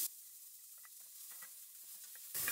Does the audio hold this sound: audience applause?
no